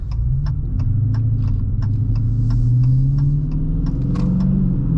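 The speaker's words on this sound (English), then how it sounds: "sometimes I do miss the V8 sound because it does sound really good." A Dodge Challenger Scat Pack T/A 392 V8 rumbles deep and steady, a low droning hum that swells slightly midway, with faint periodic ticking on top.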